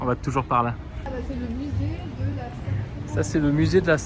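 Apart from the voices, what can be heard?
None of the usual background noises is heard.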